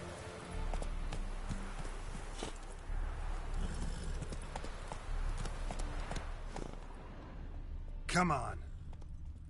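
Video game horse Roach's hooves clop in a steady walking rhythm under a rider's voice, with a quiet ambient bed and a sharper burst near the end.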